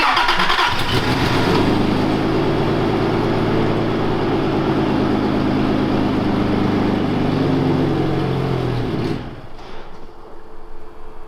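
A Toyota Land Cruiser Chinook camper's engine cranks and catches, then holds a loud, rough, droning idle for several seconds before abruptly dropping away and falling quieter.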